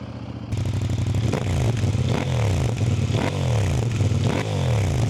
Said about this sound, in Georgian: მინდა აღვნიშნო, რომ მოტოციკლეტს თავის ქარხნულ გამშვებზეც კი იმდენად სასიამოვნო ხმა აქვს,